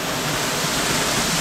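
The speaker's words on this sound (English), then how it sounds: "and behind the waterfall" Steady, full roar of a small waterfall heard from close behind the falling water by a river in Neath, Wales, with dense, unbroken broadband rushing.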